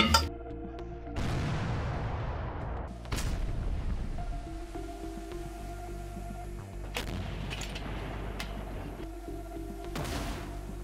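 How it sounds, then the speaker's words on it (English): Artillery guns firing in the Donetsk region, several heavy booms spaced a few seconds apart, each followed by a rumbling tail over a low background drone. "The artillery unit, which precisely adjusted the coordinates, started firing."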